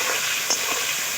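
Potatoes fry in hot oil until deep red for a pointed gourd and prawn dish, giving a steady, soft, unbroken sizzling hiss close by, with a faint bubble or two.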